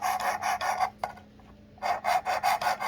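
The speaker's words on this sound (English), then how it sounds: "Now I'm just sharpening the knife. If you can even hear me over this grinding." Knife blade being sharpened on a Work Sharp Precision Adjust sharpener, a close rhythmic rasping of repeated quick strokes in two bursts separated by a short pause.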